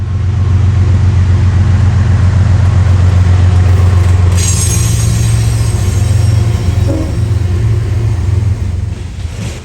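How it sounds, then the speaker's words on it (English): A BNSF coal train rolls past with a loud, steady low rumble of wheels and cars, a brief metallic squeal rising midway, continuous and close throughout. "the BNSF coal train."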